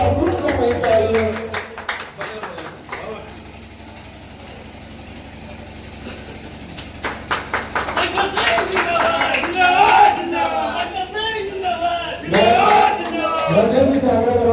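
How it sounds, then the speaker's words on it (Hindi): Crowd applause at an election office inauguration in Tikapatti, bursts of clapping alongside cheering voices and speech, with an engine idling in the background. "तालियों के साथ उसका अभिवादन करते तालियां बजती रहनी चाहिए"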